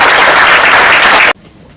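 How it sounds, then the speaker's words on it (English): A school audience bursts into loud, dense applause at the end of a presentation, then the clapping cuts off abruptly. "Another round of applause"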